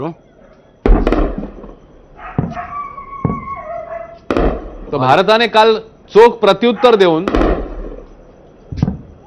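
Several sharp, isolated gunshot bangs of cross-border firing from Pakistan ring out at Bamiyal on the Punjab border, at irregular intervals, interspersed with someone speaking.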